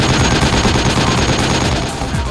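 Sustained automatic gunfire from a Project Reality battle, dense overlapping bursts of rifle and machine gun shots that run loud and continuous with no pauses.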